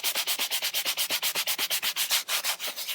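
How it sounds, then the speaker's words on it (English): A stiff bristle brush scrubs a leather car interior in fast, even back-and-forth strokes, a loud rhythmic rasping of about eight strokes per second, close up with no talking. "you're going to use a stiff bristle brush and do the exact same thing to clean it off"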